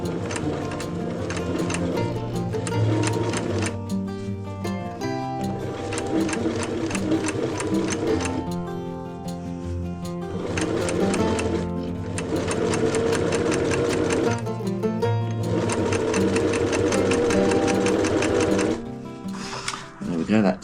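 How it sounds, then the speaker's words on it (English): Sewing machine stitching together fabric pieces of a down-filled pouch made from upcycled camping gear, running in long steady bursts with brief pauses between seams, close and loud with a low motor hum. "I'm going to stitch those together to make one."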